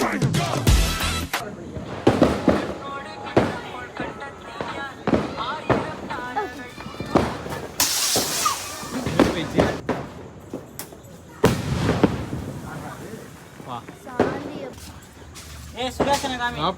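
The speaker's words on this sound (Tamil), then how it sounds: "பட்டாசு அடிக்கணும்" Firecrackers crackle and pop in rapid bursts throughout a Diwali celebration, loud and close, with people shouting and talking over the noise.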